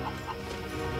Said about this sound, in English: This is Zorro, who came here to steal my chickens.